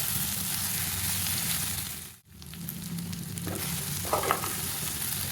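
Okra (bhindi) sizzles steadily with masala in a pan for a dhaba-style dish: a dense, even frying hiss that briefly drops out, then resumes with a few faint clinks near the end.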